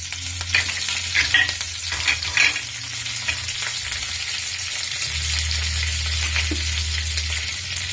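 Curry leaves crackle and sizzle in hot oil in a pan for chapati chivda, a steady close frying hiss broken by scraping stirs and a few sharper pops, with no voices.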